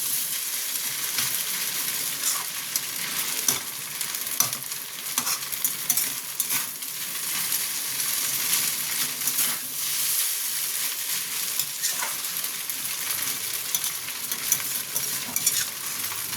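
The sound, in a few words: veg chowmein frying in a pan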